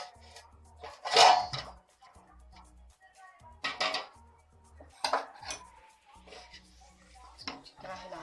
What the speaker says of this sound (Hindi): अच्छी तरह हिला लेंगे।